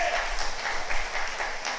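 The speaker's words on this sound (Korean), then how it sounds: "박수치기는 이릅니다." Congregation applause at a church revival meeting, a steady dense wash of many hands clapping that fills the hall at moderate level with no pause.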